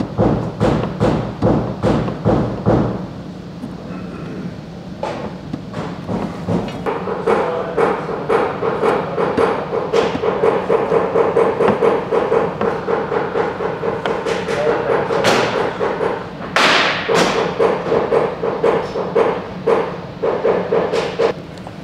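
Paintless dent repair tools tapping and thumping out a dent in a Dodge truck door, worked through the door access: a steady run of sharp, close knocks, rapid at first and then in quick clusters, loud throughout.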